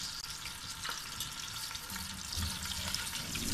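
Garlic sizzles and fries in about half a cup of hot cooking oil in a home kitchen pan, a steady close crackling hiss with light stirring scrapes throughout.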